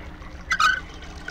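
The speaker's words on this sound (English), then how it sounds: "it sounds like water's flowing out of this now" Water gushes briefly from a mechanism in the video game Myst. It comes as a short splashing burst in the middle, over a faint, low background hum.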